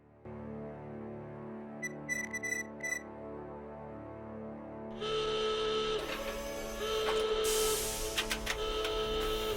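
A time machine powers up in the point-and-click game Doc Apocalypse: a few short electronic chirps, then a loud, dense mechanical whir with buzzing tones that swells and holds over a steady synthetic hum.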